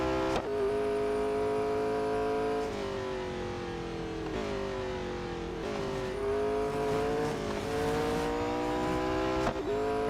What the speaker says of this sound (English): driving around Monza completely out of control